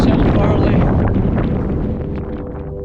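Strong outdoor wind roars and buffets the microphone on a long-distance walk by a rocky crag, a loud, continuous rushing that eases only slightly toward the end.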